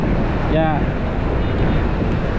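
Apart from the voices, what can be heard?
strong wind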